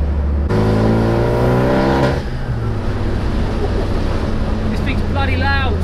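A 405bhp Renault Megane Mark III fitted with a full titanium exhaust revs loudly nearby, a deep rasping engine note that swells and drops, with someone talking over it.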